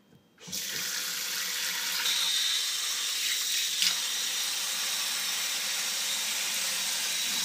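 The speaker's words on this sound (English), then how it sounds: "you're going to soak them with water" Tap water gushes into a bowl of shredded potatoes being soaked for home fries, a steady, close, continuous rush that starts abruptly and runs unbroken with no talking.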